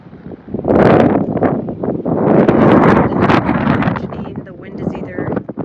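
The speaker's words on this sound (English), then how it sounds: "It is so windy." Strong wind in the Anza Borrego desert roars against the microphone in loud, sustained gusts that swell and ease.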